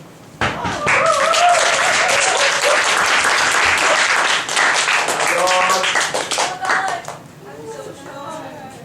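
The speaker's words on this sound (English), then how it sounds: "So let's give a round of applause to Dawn." Loud, dense audience applause for a speaker at an event, starting abruptly, holding strong for several seconds, then tapering off as scattered voices and chatter come through.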